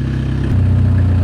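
A Citroen GTI 16V engine idles after warming up, a steady low rumble with a slight drop in pitch partway through, close and loud with no talk.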